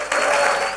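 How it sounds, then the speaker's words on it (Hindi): A church congregation claps and cheers for the Lord during a service, a dense, steady burst of applause filling the room without a break. "तालियां बजाना है।"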